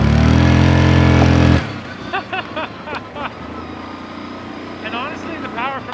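Engine of a 2016 Yamaha Kodiak 708 ATV while riding: a loud steady drone that drops to a lower running hum after the opening seconds, with someone talking over it.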